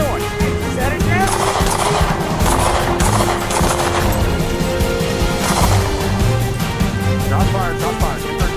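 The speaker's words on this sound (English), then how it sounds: "Shots fired. Shots fired." Rapid bursts of gunfire crack and rattle during a police standoff, loud and dense volleys overlapping with shouting voices throughout.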